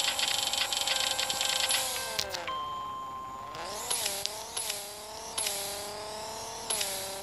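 Simulated engine of a racing video game car revs repeatedly, climbing in pitch through the gears with brief dips at each shift, loud and steady with no talk.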